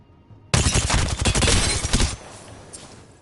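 Volt SMG energy weapon from Apex Legends firing one sustained rapid burst of about a second and a half, loud and close, then fading into a faint hum with no talking.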